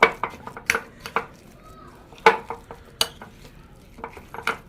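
Fruit stirred continuously in a pot, a spoon knocking and scraping against the metal in irregular clinks and scrapes over a quiet background.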